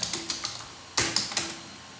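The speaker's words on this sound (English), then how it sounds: "Now you start typing the text." Typing on a computer keyboard, a quick run of about a dozen light plastic key clicks in an uneven rhythm, close and clear with no voices.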